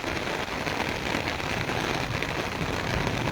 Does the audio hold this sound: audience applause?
no